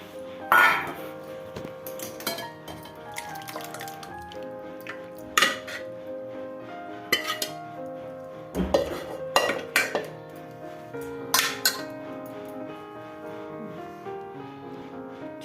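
Metal utensils clink and scrape against pots and a bowl while mutton gravy is served, with sharp ringing strikes at irregular intervals, close and clear over a quiet kitchen background.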